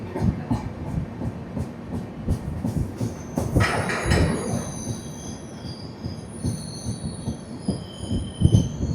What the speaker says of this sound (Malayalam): നമ്മളിതാ വടകര സ്റ്റേഷനിലോട്ട് എത്തി